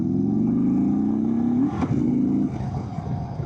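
A 2024 Indian Sport Chief motorcycle accelerates in sport mode, its low V-twin rumble rising in pitch before a gear change and settling into a steady drone, loud and close.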